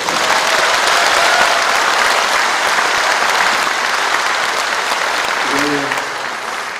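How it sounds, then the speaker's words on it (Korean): A crowd applauds steadily for several seconds at a mayoral inauguration ceremony in Icheon, South Korea, dense clapping that slowly fades, with a brief voice near the end. "여러분들 제 이 서운한 마음을 좀 위로해주는 그런 박수를 부탁드립니다"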